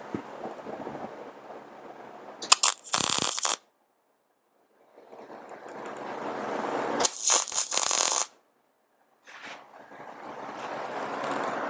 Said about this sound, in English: Let me go ahead and throw a spot weld on it.